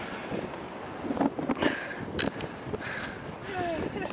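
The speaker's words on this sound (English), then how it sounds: "Wind's kicking up a little." Gusty wind blows across the microphone, a steady rushing roar with a few louder buffeting bursts, no voices.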